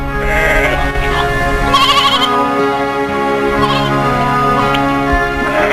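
A flock of sheep bleats repeatedly, several overlapping calls rising over a steady bed of layered, sustained tones, close and fairly loud throughout, with no voices.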